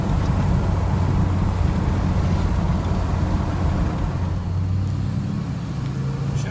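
A 2007 Chevy Silverado 2500 HD pickup with an LBZ Duramax diesel and a 3-inch lift drives steadily, its low engine and road rumble constant with some wind noise, from inside the cab with no talk.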